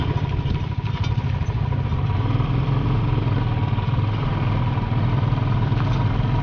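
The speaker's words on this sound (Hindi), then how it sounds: "बाइक भी फर्स्ट गियर में फिर चल रही है, सेकंड गियर ले नहीं रही है।" A motorcycle labours in first gear on the cold, snowy climb up Khardung La pass, refusing to take second gear. Its engine makes a steady, continuous rumbling drone close by, with no talking.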